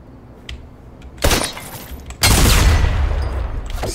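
Loud gunshots and crashing impacts in the video game Fortnite, a couple of sharp bursts followed by a sustained, heavy roar of fire and breaking debris, with no one talking.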